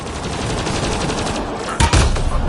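Rapid gunfire rattles in a PS4 shooter game, a dense continuous fusillade of overlapping shots with a louder burst near the end.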